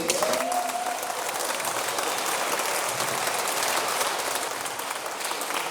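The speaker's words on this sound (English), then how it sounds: "we give another round of applause to you." A large crowd at an awards event applauds steadily, a dense wash of clapping that holds at a constant level throughout.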